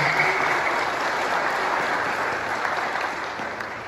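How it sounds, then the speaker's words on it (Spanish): A church congregation applauds steadily and loudly, a dense, sustained wash of clapping from a crowd that carries on without a break and with no talk over it. "le damos un aplauso a la palabra de Dios en esta jornada"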